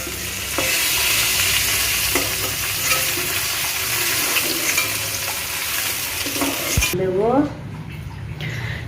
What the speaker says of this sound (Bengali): ভেন্ডি দেখো সুন্দর করে ভাজা হয়ে গেল